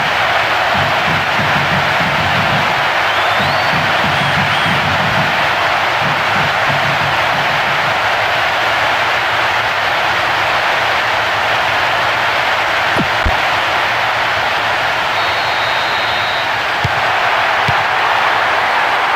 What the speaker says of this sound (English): Crowd starting to get impatient now.